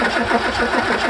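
A classic car's engine cranking without catching, after about 20 years off the road, a continuous rhythmic churning of the starter motor turning the engine over, close and steady throughout.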